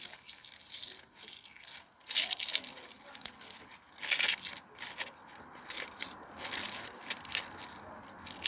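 Plant material is crunched and crushed by hand for a nature potion, giving close, dry, crackling bursts of crumpling and tearing that come in uneven waves, with no one speaking.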